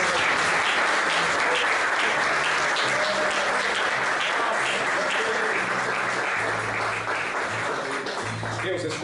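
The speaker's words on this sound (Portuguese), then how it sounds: "aplauda o nome de Jesus" A church congregation at a workers' service claps together in steady, loud applause that fills the room for several seconds, with voices speaking over the clapping.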